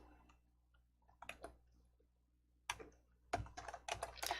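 Someone types a file name on a computer keyboard, giving quiet, irregular bursts of clicking key presses with short pauses between them and no voices.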